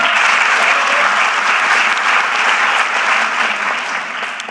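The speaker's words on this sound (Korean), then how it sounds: "저 박수 벌써 몇 번째 받고 있습니다." Loud, sustained applause from a large audience at a town hall meeting in Jeju, a dense continuous wash of clapping that tapers slightly at the end.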